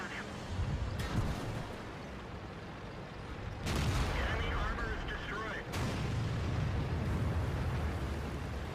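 Artillery shells land in a World of Tanks battle as a few heavy, booming blasts spaced several seconds apart over a dense, rumbling battle din, with someone talking over it.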